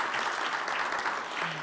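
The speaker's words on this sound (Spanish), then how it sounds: "Yo quiero pedir un aplauso para esta primera mujer directora de la Academia Diplomática." Brief applause for the academy's first woman director at a diplomatic gathering, a dense, even patter of clapping from an audience, moderately loud and lasting under two seconds.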